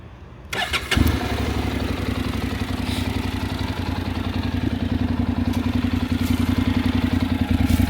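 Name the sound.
motorcycle engine starting with custom exhaust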